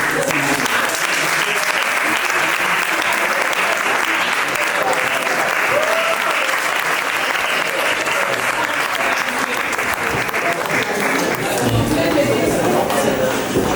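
Audience applause at a fashion day event, sustained and loud throughout with crowd chatter mixed in.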